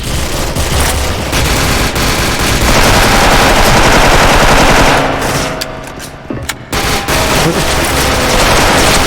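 Sustained rapid automatic fire from a DISCO M4A1 rifle in an online shooter game, loud, close and nearly continuous, with a brief pause before the bursts resume; a voice talks faintly underneath.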